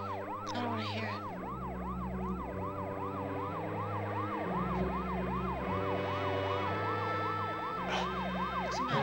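A wailing siren sweeps up and down repeatedly over a steady low engine drone, loud and close throughout.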